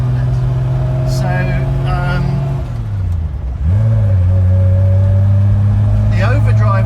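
A Triumph Vitesse engine droning steadily while driving in third gear with overdrive, heard from inside the car, with the pitch dipping briefly then settling back to a loud even hum as someone talks over it.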